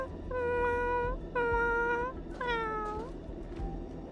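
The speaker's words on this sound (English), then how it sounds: "the meowing of this thing is kind of creepy" A creature meowing in the video game Honkai Star Rail: three drawn-out, cat-like meows in quick succession, clear and close, each rising then falling, with faint game ambience beneath.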